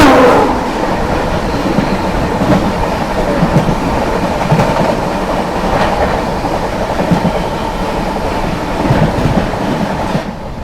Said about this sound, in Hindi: दोस्तों सामने से आ रही है new Delhi Gowda weekly Humsafar express.